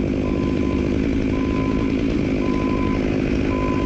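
Chainsaw cutting a tree beside a fence on a windy day, a loud, continuous close-range engine roar with a steady buzz and no pause from start to finish.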